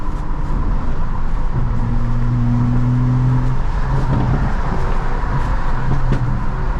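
A built 435 engine fitted with M55 exhausts drones steadily from inside the car on a highway, its deep exhaust note rising as it accelerates over constant road and wind noise.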